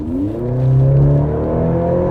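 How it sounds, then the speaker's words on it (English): Maserati Grecale accelerating, its exhaust tuned for a throaty note, a loud, close engine rising in pitch as it revs, deep and steady with no talk. "they tuned the exhaust to be a little more throaty and fun"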